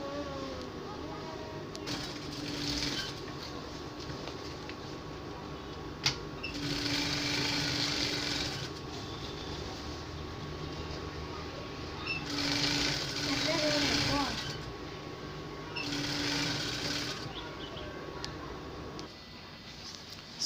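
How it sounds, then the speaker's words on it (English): A sewing machine stitches the inseam of a jumpsuit, a steady buzzing whir running in several bursts with brief pauses, close up, while a person talks over it. "So I've stitched the inseam area."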